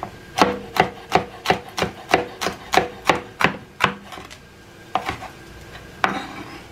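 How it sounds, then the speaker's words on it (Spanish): A chili pepper for chicken tacos dorados is chopped with a knife on a board: about a dozen quick, evenly spaced, crisp cuts, then a pause and a few slower strokes, close and alone. "Vamos a picar el chile también."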